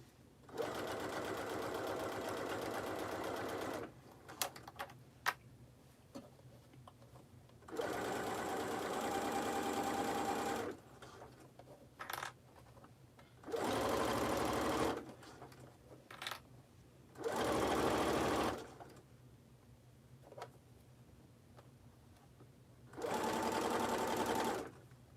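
A sewing machine stitching a fanny pack runs in several bursts of steady stitching, with quiet pauses and small clicks and handling noises between runs.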